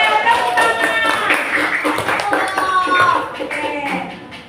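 A classroom of pupils claps together in a short burst of patterned clapping, mixed with young voices chanting or talking over it. The sound is close and fairly loud, then fades toward the end.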